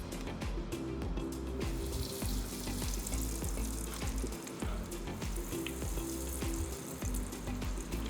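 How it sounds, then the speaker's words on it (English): Macaroni and cheese bites fry in hot oil on a Blackstone griddle, giving a dense, steady sizzle and bubbling with scattered crackles and pops throughout, close and without speech. "It is time to fry up these macaroni and cheese bites."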